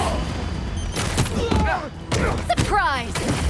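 Gunfire rattles in Marvel's Spider-Man 2 combat, bursts of shots mixed with impacts and whooshing effects, with shouted voices and game sounds layered on top.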